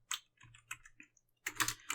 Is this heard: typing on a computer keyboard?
yes